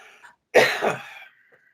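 A single close, loud cough, one harsh burst with a rough trailing rasp, then near silence.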